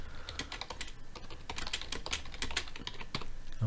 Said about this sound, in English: I'm going to type a couple of comments